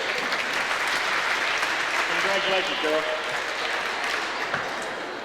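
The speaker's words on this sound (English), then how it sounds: "Let's give these cheerleaders a big round of applause." Applause for cheerleaders in a little league basketball championship gym, sustained clapping with a brief spoken congratulation and some tonal sounds over it, fading slightly at the end.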